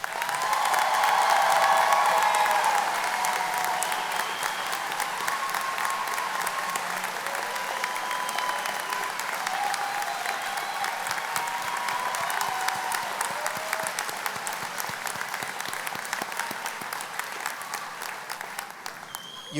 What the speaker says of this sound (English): Let us give our graduates a round of applause.